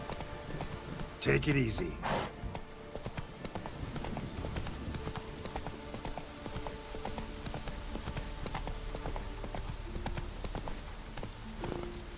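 Hooves of the horse Roach clip-clop steadily through The Witcher 3 as she gallops on, a brief snort near the start, with a rider's voice talking over the rhythmic pounding.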